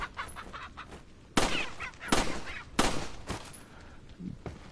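Chickens cluck in the video game Resident Evil 4, mixed with sharp, loud gunshot bursts fired at them, several distinct blasts over faint background.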